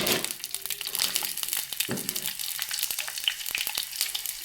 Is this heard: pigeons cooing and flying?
no